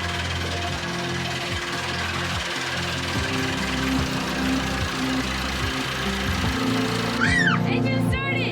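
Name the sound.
sailboat engine starting with new starter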